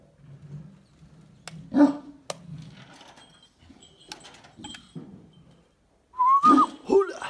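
Dogs at a rural home with livestock bark and yelp in short, separated bursts while being fed, loudest near the end, with scattered light clinks and a thin whistle-like tone between them.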